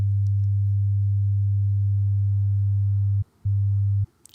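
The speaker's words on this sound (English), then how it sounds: "100 hertz." A steady 100 hertz sine test tone hums low and loud for about three seconds, breaks briefly, then resumes before cutting off.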